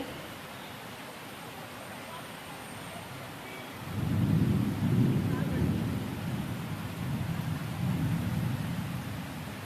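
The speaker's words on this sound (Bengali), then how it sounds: "এই দেখো বাজ পড়ছে আওয়াজ পাচ্ছ নিশ্চয়ই তোমরা" Thunder rolls during heavy rain: a steady hiss of downpour, then a deep, loud rumble swells midway and lingers, fading and returning in low waves.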